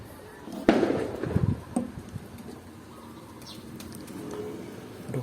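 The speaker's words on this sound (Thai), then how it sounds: "เมื่อกี้เสียงจุดประทัดไล่นกกัน" Firecrackers go off near sunflower fields to scare birds away, one sharp crack followed by a short burst of rough crackling, then quieter outdoor ambience with a faint bird call.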